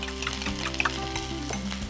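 Potatoes sizzle as they fry in a pan for a Spanish tortilla, with a steady close crackle and a soft scrape of stirring partway through.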